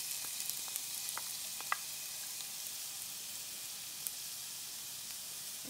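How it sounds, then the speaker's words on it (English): Chopped onion sautés in a pan for cottage pie, a soft, steady hiss and crackle with scattered small pops, fairly quiet and close, no voices. "So next up, we're going to saute off our vegetables."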